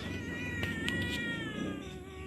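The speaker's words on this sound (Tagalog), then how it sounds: "Itim na pusa dito sa ilalim ng mesa." A black cat hidden under a table lets out a long, drawn-out, wavering meow, close and moderately loud, holding steady for about two seconds against a faint room background.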